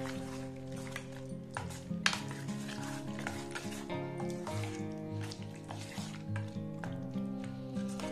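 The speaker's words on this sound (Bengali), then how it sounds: "একটা ডিম ফাটিয়ে দিয়ে দেবো, ভালো করে এটা মিশিয়ে নেব।" Chicken and a cracked egg are worked together in a bowl, giving a continuous run of close clinks and scrapes of a utensil against the dish, with soft wet squishing under music.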